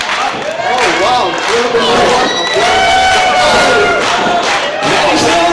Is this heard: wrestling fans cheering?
yes